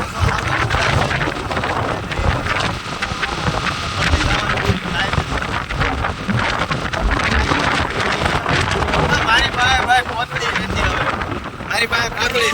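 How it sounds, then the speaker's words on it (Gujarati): Rain and wind sweep in over an open rural spot, a loud rushing roar with gusts buffeting the microphone and steady patter throughout, while someone talks over it. "એક્ઝેક્ટ અમારી પાસે આવતો જાય છે વરસાદ"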